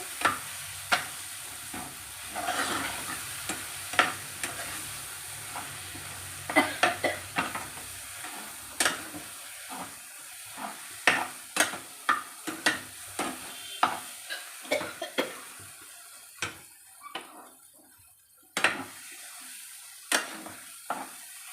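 Food frying in a pan is stirred with a spoon, giving repeated sharp scrapes and clinks against the pan at an irregular pace over a soft, continuous sizzle, close and fairly quiet.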